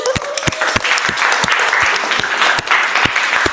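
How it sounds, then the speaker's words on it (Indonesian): A crowd claps steadily and energetically throughout, with sharp individual claps standing out over the dense applause. "Mari kita tepuk tangan."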